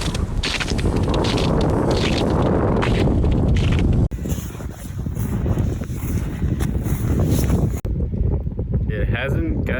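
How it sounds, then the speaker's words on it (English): Strong, cold wind at minus 35 wind chill buffets the outside of a hot tent, a loud, continuous roar with heavy gusty rumble and microphone buffeting that drops away abruptly near the end. "There's that wind."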